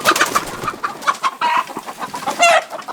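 Chickens cluck and squawk in a coop, a busy overlapping run of short calls with a brief crow-like note near the end, close and fairly loud.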